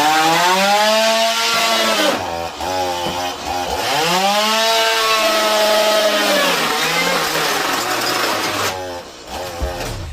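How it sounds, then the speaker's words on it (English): A chainsaw cutting into a television set, its engine revving and bogging in long loud waves as the blade binds and frees, continuous and close with brief dips where the cut stalls. "He immediately took a chainsaw to his television set."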